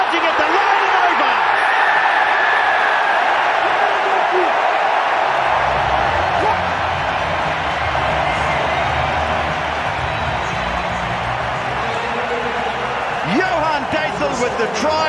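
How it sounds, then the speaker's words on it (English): Loud, sustained stadium crowd roar at the Rugby World Cup after a Namibia try, a dense wall of cheering that stays strong throughout with a commentator's voice over it. "that gets the biggest roar of the night from the crowd"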